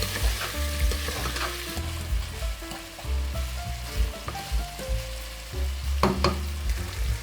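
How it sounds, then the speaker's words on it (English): Lamb for an Irish stew browns in a pan with a steady, close sizzle and crackle, broken up by the clatter and scrape of a spoon stirring the meat. "just browning the lamb"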